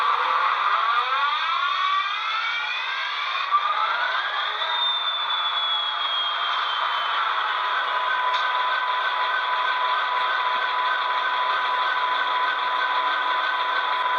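An HO scale Athearn Genesis Norfolk Southern SD75M diesel locomotive sound spins up with rising whining tones, then settles into a steady droning engine hum that continues loud and unbroken.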